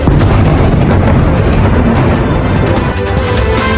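Missile explosions and booms during a night attack on Tel Aviv, Israel, a dense continuous roar of blasts and rumbling, loud and sustained throughout with no clear gaps, no talking.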